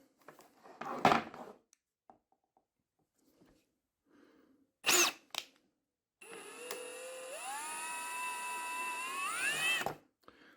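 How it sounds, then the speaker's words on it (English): Power drill boring a hole in a plastic gauge case for a Mazda MX5 NC Mk3, a rising motor whine that winds up and runs for several seconds after a few short handling bumps. "we need to drill a hole in it to pass the cable through"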